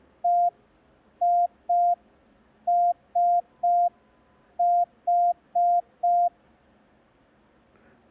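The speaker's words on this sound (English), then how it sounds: "Now we are going to do practice on EISH." Morse code practice tones for the letters E, I, S and H: short, clean, evenly spaced beeps in groups of one to four, separated by pauses over a quiet background.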